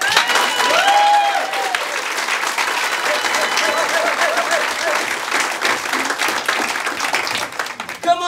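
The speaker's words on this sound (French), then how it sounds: "je vous demanderai de faire un tonnerre d'applaudissements pour Fatima." Loud, sustained applause from a theatre audience at an improv cabaret show, dense clapping that fills the room, with a voice briefly heard over it near the start.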